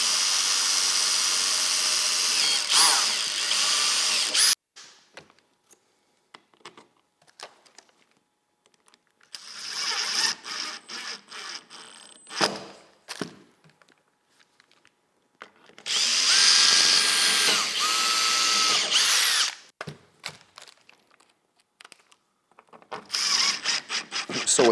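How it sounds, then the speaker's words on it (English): A power drill bores pilot holes into a boat deck to mount a Minn Kota Ultrex trolling motor, in several loud, close bursts of whining, grinding drilling, separated by quiet gaps with handling clatter. "Go ahead and drill our pilot holes and then screw this down solid."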